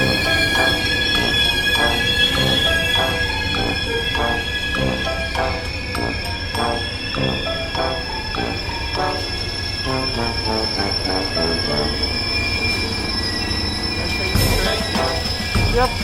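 Sustained high-pitched metal squeal from Amtrak California Zephyr train wheels rolling along rails, with rhythmic clunking beneath and a steady loud rumble throughout.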